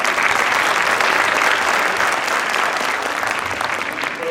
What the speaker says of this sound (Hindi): टेंडरफीट के बच्चे, टीचर्स, पेरेंट्स सबके लिए जोरदार तालियां